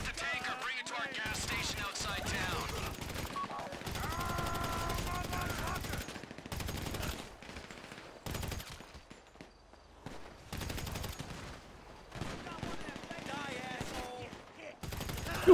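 Gunfire in GTA V Online during a heist, bursts of rapid automatic shots broken by brief pauses and single shots, mixed with footsteps and a talking player's voice.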